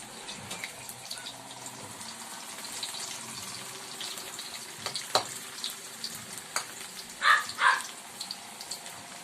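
Sliced sweet potato (kamote) deep frying in a pan of hot oil, a steady close sizzle with soft stirring clatters and a few louder bubbling bursts near the end, no talking.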